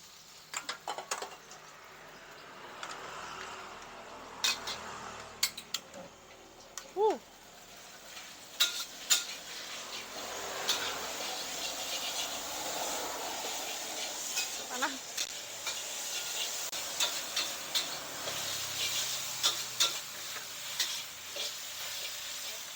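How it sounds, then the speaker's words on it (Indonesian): Mie goreng noodles stir-fried in a pan at a noodle and dimsum eatery, with ground chili in the mix: a steady sizzle throughout, broken by irregular sharp scraping and clinking spatula strokes, with faint background voices. "Aku lagi pengen tahu proses bikin mie gorengnya."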